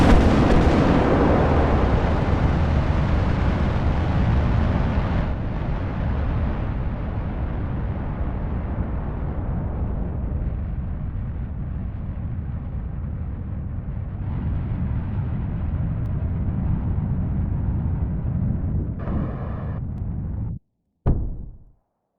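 A rocket lifts off in Kerbal Space Program with a loud, sustained roaring rumble that slowly fades over about twenty seconds, then cuts out abruptly, followed by a brief final burst of noise.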